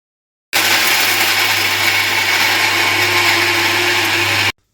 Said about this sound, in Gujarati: તો ચટણીને આપણે હવે મિક્સર જારમાં પીસી લઈએ